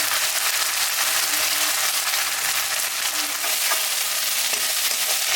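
Spices and small tomato pieces sizzle and crackle as they fry in a hot pan, a steady loud hiss with scattered pops and occasional stirring scrapes, no voices.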